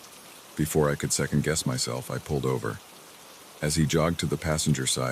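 Steady, soft rain falls as a constant hiss in the background while a voice narrates a story over it.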